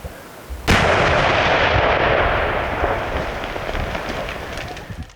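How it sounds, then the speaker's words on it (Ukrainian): A powerful explosion bursts abruptly, then a long roaring rumble with scattered crackles slowly decays, loud and close. "Вибух!"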